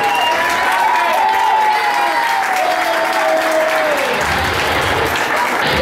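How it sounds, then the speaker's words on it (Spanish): A studio audience at a singing competition elimination applauds for Mayela, steady dense clapping sustained throughout, loud and close, with a faint voice underneath. "Así que un aplauso, Mayela."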